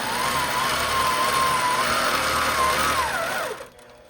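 An APQS longarm quilting machine stitches fabric down, making a steady, close mechanical hum with a faintly wavering tone that holds for about three and a half seconds before winding down quickly.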